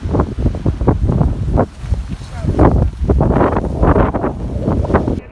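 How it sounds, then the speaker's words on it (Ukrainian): Strong wind with rain batters the microphone in loud, irregular gusts, a harsh rushing roar that comes in surges and briefly eases, in a storm in Kyiv. "Вітер такий сильний, що каплі дощу так луплять по обличчю, що просто жесть."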